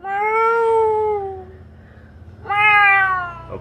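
A cat indoors at an old house inn in Tainan lets out two clear, drawn-out meows close by, with a short quiet pause between them.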